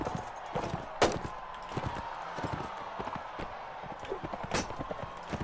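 Horse hooves gallop in a Mount & Blade: Warband tournament round, a steady rapid clatter of clip-clop beats with a sharp louder impact near the start and another toward the end, over a busy background of combat noise.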